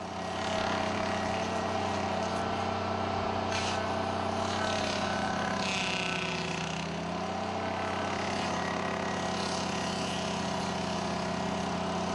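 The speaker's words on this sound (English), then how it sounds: "the Dingo Stump Grinder hangs over the stump and swings back and forth" A Dingo mini loader with a stump grinder attachment runs in a steady, loud, continuous engine drone while it swings over a stump, with a faint grinding texture.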